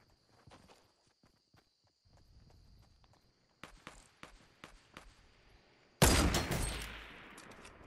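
Gunfire in Fortnite Battle Royale: scattered faint footstep-like taps, then a run of sharper distant shots, ending in a sudden loud blast that decays over the last two seconds.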